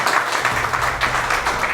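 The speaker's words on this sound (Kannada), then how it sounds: "ಇದು ಕರೆಕ್ಟ್ ಅನ್ಸಿದ್ರೆ ಒಂದು ಚಪ್ಪಾಳೆ ಕೊಡಿ ಸರ್" An audience at an event breaks into sustained applause, a loud, dense wash of many hands clapping together that carries on steadily without a break, with no voices standing out above it.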